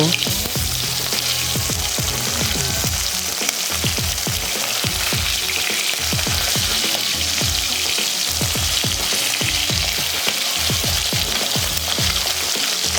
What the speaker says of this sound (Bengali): এবারে উল্টে আরও এক মিনিট ভেজে নেব